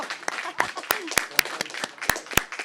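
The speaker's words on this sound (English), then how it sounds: "I think these authors deserve an amazing round of applause." A small audience at an author talk in Frothingham Hall gives a few sharp, scattered claps, sparse and fairly faint, spaced unevenly across a few seconds in a quiet room.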